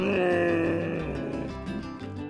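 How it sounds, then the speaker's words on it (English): A camel gives one loud, close, low groaning bellow, a drawn-out gurgling moan that fades slightly over about two seconds. "Camel."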